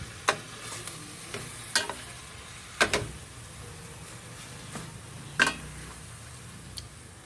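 Kangkong and okra sautéing in a pan, a faint steady sizzle broken by a handful of sharp utensil clicks and taps against the pan at irregular intervals, close and quiet, no talk.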